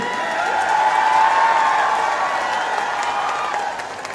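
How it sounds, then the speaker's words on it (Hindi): A crowd at a joint BSP-INLD political rally in Chhachhrauli applauds and cheers a welcome, a sustained, somewhat distant wash of clapping and crowd noise that slowly tapers. "उनके लिए जोरदार तालियों से स्वागत करें।"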